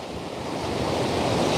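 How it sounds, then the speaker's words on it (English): Wind and surf on a coastal walk, a dense roar of breaking waves mixed with gusty wind buffeting the microphone, growing slightly louder over a short stretch with no talk. "plenty of wind out there"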